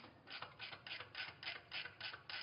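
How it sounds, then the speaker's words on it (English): A ratchet wrench turning a hydraulic roller lifter's rocker adjustment on an engine: steady, close metallic clicking in about nine quick even bursts over a couple of seconds, with no speech. "Ratchet wrench comes in handy."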